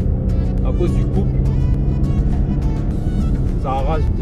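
A Range Rover Sport accelerates hard with a loud, steady engine roar heard from inside the cabin, while someone talks over it.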